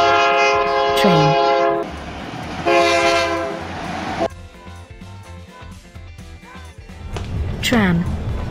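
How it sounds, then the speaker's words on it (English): A train sounds its loud, multi-tone horn in two long blasts, with rail clatter and rolling wheel noise in between, up close. "Train."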